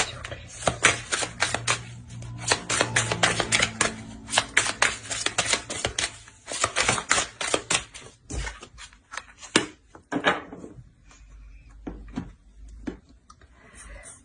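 Tarot cards are shuffled and drawn up close: rapid riffling flutters and sharp card snaps in uneven bursts, thinning out toward the end into scattered single slaps, with no voices.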